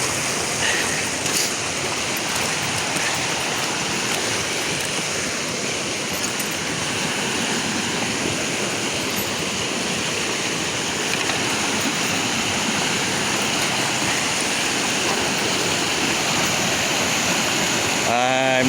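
Middle Fork Lytle Creek flows steadily nearby on a hiking trail, a loud continuous broadband rush of water with no pauses, filling the whole stretch.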